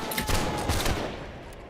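A musket line volley in the Napoleonic-era game Holdfast: Nations at War, a dense crackling fusillade of many shots close together that rolls for about a second, then trails off into a fading echo.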